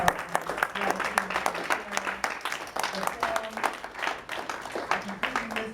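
An audience applauds panelists after a film discussion, a dense, steady wash of many hands clapping that holds for several seconds with voices mixed in beneath.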